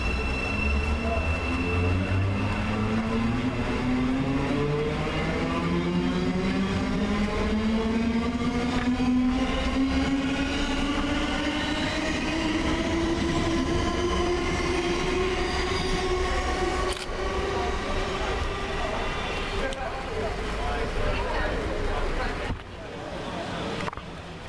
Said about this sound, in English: Next out to the station is 700-116, with the 1209 Govia Thameslink service from Brighton to Bedford.